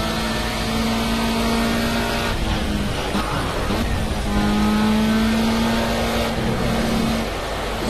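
A race car engine in a racing video game set at Donington Park drones loud and close, its pitch rising and dipping as the car shifts gears and works through corners.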